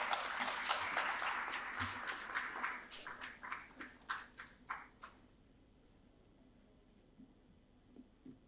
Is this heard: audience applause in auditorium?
yes